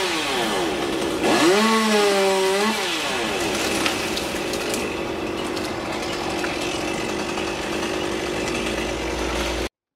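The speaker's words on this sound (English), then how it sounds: "this man's about to chainsaw off another limb" A chainsaw cutting a limb off a tall pine tree, a loud continuous engine drone that rises and falls in pitch as it revs, steady for the whole stretch.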